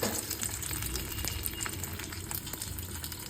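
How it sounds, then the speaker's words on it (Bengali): Chicken burger patties frying in oil in a pan, a dense, lively crackling sizzle with frequent small pops throughout, close and fairly loud, without speech. "তো এটাকে আমি এখন ফ্রাই করে নেবো। একটু দিয়ে দেবো আমি তেলে, আস্তে করে"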